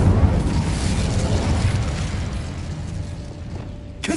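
An Incendio fire spell erupts with a loud, roaring whoosh of flame and a rumbling burst, sustained near and strong, then fading and ending with a faint mechanical click.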